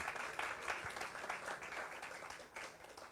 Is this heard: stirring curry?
no